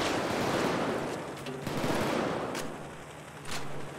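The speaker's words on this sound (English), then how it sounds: "I'm finally bringing out my rifle." Rifle gunfire in Payday 2 during a mall heist, dense rapid bursts of shots forming a loud continuous rattle with brief sharp cracks, no talking.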